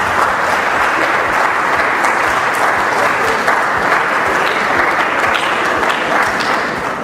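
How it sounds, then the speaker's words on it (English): An audience gives a round of applause for a poem honoring teachers, with dense, sustained clapping close by throughout and no talk over it. "I think they deserve rounds of applause, please."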